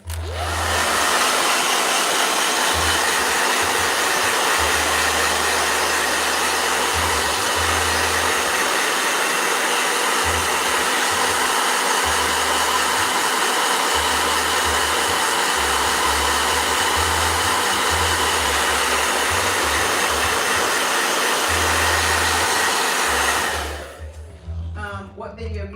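A blow dryer runs loud and close for over twenty seconds as a continuous airy roar with a low motor whine, then cuts off near the end; a voice murmurs faintly beneath it.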